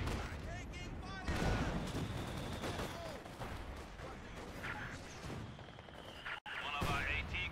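Dense, continuous volleys of gunfire and booming artillery from a Company of Heroes 2 3v3 multiplayer battle, loud and close, with voices heard over the shooting.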